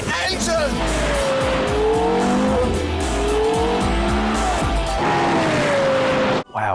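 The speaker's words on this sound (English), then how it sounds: "Carrera GT is like this super rare car, like 600 horsepower, awesome sounding V10. Listen to that engine!" Porsche Carrera GT with a 600-horsepower V10, revving loudly and close with rising and falling engine tones, tire squeal mixed in, and people talking over it.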